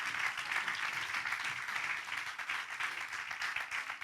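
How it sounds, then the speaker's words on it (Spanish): Church congregation clapping in applause during a sermon, a faint, steady wash of many hands at a distance. "Dale un aplauso al Señor"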